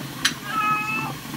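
A cat gives a single short meow with a rising then falling pitch while being bathed, heard close under steady background noise and running water.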